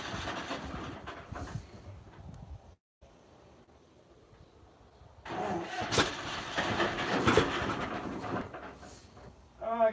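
A John Deere Model A tractor engine, unused for eight years, turns over faintly, drops out briefly, then catches and runs louder with uneven chugging bursts.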